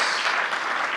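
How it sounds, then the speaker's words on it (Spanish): A short burst of applause from a panel audience, dense clapping at steady volume. "Aplausos, aplausos."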